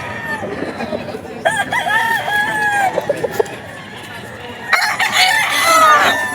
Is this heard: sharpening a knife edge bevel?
no